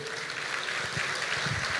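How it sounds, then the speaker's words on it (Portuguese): Congregation at a church service gives a round of applause to the Lord, a short steady burst of many hands clapping in a reverberant hall with no voices over it. "Você pode dar um aplauso ao Senhor?"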